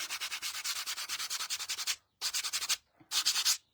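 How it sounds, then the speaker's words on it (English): Sandpaper rubs a painted wood block in quick, even back-and-forth strokes, close and steady, then breaks off into two shorter bursts of scraping separated by brief pauses. "what I'm doing is sanding these"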